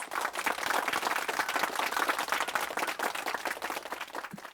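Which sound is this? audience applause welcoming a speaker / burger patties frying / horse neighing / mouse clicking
audience applause welcoming a speaker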